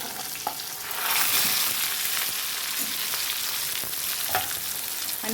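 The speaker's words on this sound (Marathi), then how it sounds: "एक कांदा मी कट करून घेतला होता तो ह्याच्यात टाकून घेऊया" Chopped onion frying in hot oil with garlic in a pan, a continuous bright sizzle that swells soon after the onion goes in, with occasional light knocks of a spoon and no speech.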